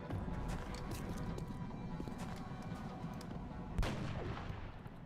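Gunfire from the Long War mod of XCOM, played on Impossible Ironman, a single sharp shot cracking out at close range over steady game ambience and music.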